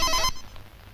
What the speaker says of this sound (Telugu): ఇంకో ఫోన్ మోగుతుందండి.